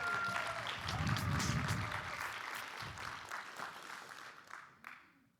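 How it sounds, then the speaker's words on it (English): A crowd claps steadily for several seconds, loud at first and then thinning out until the applause fades away. "Let's give a big applause for everybody for turning up."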